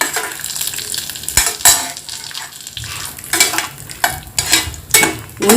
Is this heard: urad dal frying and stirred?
yes